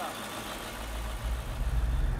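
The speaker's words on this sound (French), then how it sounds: "Le rugissement des moteurs," Roaring 1300-horsepower engines of an airport tug give a steady low rumble that swells louder and heavier in the second half, close and continuous.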